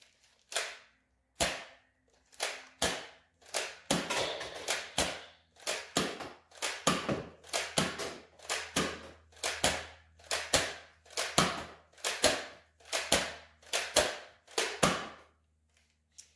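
An Ekind Waffle Dart foam dart blaster (Nerf-style) fires fifteen sharp, dry snapping shots in a steady rhythm, each a short crack followed by brief quiet, close and moderately loud.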